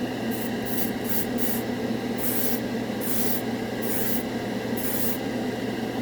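An airbrush sprays Turbo Dork color-shifting metallic paint onto metal knives and spoons in short hissing bursts, about eight in a row, some quick and some longer, over a constant low hum of the compressor.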